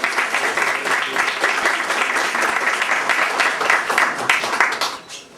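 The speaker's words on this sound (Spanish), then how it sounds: "A todos ellos les brindamos un aplauso" An audience at a university book presentation on Socrates applauds warmly, dense steady clapping from many hands that holds for several seconds before tapering off at the end.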